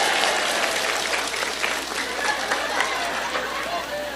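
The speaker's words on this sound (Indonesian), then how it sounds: "Tepuk tangan dulu dong." Applause from a congregation at a Ramadan tarawih religious gathering, a steady rush of clapping with crowd chatter and voices mixed in, fairly loud and continuous.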